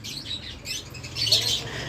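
Alexandrine parakeet chicks at a bird market, faint high chirps and tweets against a soft low background hum, brief and scattered.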